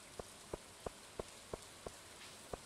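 Rain falls in a video game, sounding as soft, faint, evenly spaced drip-like taps at a steady rhythm over a quiet background with no talking.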